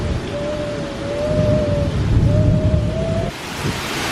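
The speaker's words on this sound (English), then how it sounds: "It's storming." Heavy rain and wind from a thunderstorm roar steadily and loudly up close, with a faint tonal whine drifting over the top before the noise briefly drops near the end.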